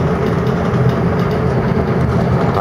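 Steady low rumble and rattle of a moving train to Dublin heard from inside a carriage, continuous and fairly loud with no voices.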